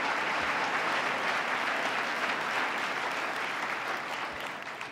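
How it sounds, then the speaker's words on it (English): Steady, dense applause from a large audience at a state government address, filling the space evenly and continuously before tapering slightly at the end. "Let's give them another round of applause for not applauding for anything"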